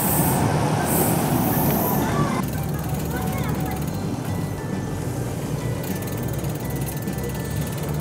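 A Meitetsu electric train rolls past near a level crossing where two lines meet, a steady broadband rumble heard close by throughout, with a brief change partway as the cars go by.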